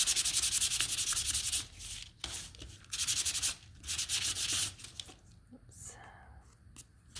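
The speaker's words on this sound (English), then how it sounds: "So now let's sand this one." Sanding strokes on a snowman decoration piece come as steady, close raspy bursts, with brief pauses and lighter rubbing toward the end.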